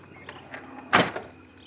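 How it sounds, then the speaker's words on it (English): A door closing in a tiny off-grid home, a single sharp thump near the middle after a few faint clicks, set against quiet background hum. "I can close the door."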